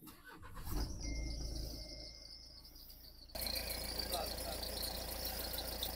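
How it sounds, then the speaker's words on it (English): A 2017 Nissan X-Trail engine with a blocked diesel particulate filter turns over and settles into a steady idle, with a louder, rougher running note toward the end, close by. "start the car."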